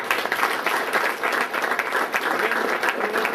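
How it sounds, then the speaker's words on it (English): An audience claps in sustained, dense applause at a canteen building inauguration, steady and fairly close for a few seconds with no voices standing out. "Round of applause for them."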